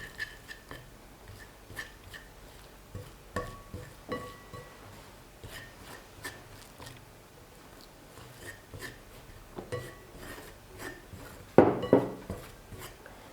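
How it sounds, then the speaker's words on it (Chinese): Pumpkin puree and plain flour stirred in a bowl, quiet scraping with scattered light clinks of utensil against the bowl, sparse and irregular, ending in a brief louder clatter near the end. "边倒边搅拌"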